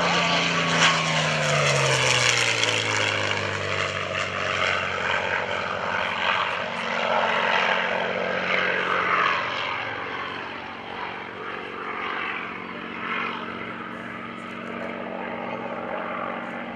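North American P-51D Mustang propeller warbird at a World War II weekend airshow, its loud engine drone sweeping past with a falling Doppler pitch, then fading into a steadier distant roar.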